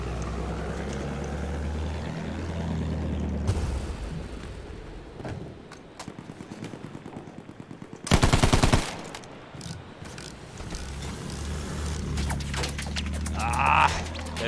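Battlefield 1 gunfire crackles in repeated bursts over engine-like rumble, with a short, very loud automatic burst near the middle and scattered shots around it.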